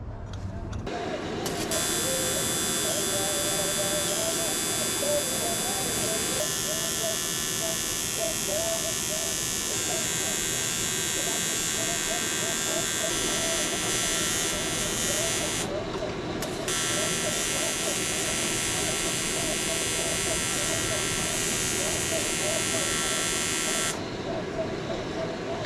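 A welder runs on a Civic intercooler charge pipe, giving a loud, continuous electric buzz and crackle that stops briefly twice before resuming, close and steady throughout with no talk over it.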